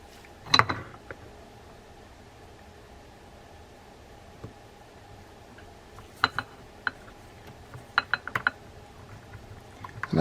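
A Penn Fierce IV 8000 LiveLiner spinning reel is turned by hand after servicing, giving sparse, quiet mechanical ticks and clicks from its gearing and anti-reverse, with a louder cluster at the start and more near the end.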